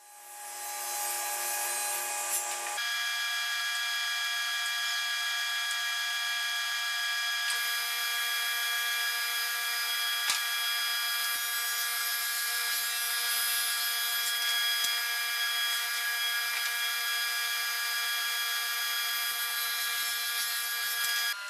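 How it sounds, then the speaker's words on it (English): A power saw rips plywood into panels for cabinet carcasses in a workshop, starting up and then running as a steady loud whine throughout, with no talking. "Now I'll get started by ripping down the plywood to the size that I need"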